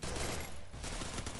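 Gunfire in a 4v4 shooter video game match, a dense, rapid burst of shots packed together across the whole moment, fairly faint overall.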